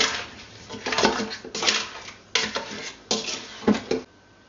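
Frog legs, hot chili and other ingredients stirred in a cooking pot for Filipino palaka humba, bursts of scraping and clinking utensil against metal separated by short pauses.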